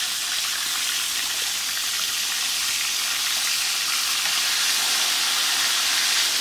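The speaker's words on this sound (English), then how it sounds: "this is nice gray snapper. And into the oil it goes." Gray snapper frying in hot oil, with a steady, dense sizzle and crackle that holds even and fairly loud throughout, no voices over it.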